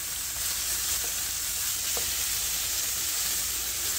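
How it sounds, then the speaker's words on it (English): One whole sweet onion sizzles in hot oil in a frying pan, a steady close crackling hiss with occasional faint pops and no speech. "we dump in our onions. And that's one whole sweet onion."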